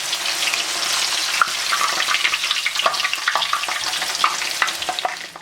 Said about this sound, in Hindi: आप इसमें चमचा यूँ ही हिलाते चले जाएंगे ताकि ये इक्वली फ्राई हो जाए, गोल्डन हो जाए